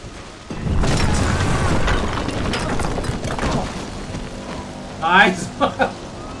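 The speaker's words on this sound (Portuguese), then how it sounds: "Mais uma explosão." A video game explosion in Max Payne 3 breaks out as a broad, rumbling blast with crackling debris that fades into a long roar. It is followed by a few short, sharp bursts near the end.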